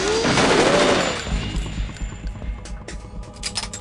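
Heavy gunfire fills a tense Metal Gear Solid 2 game scene: a dense opening fusillade gives way to rapid automatic bursts that keep rattling loudly.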